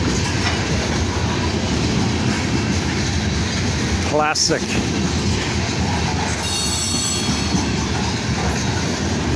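Kansas City Southern freight train rolling past close by as a steady loud rumble with wheel squeal and clickety-clack, a brief sharp burst midway, and a short spoken word.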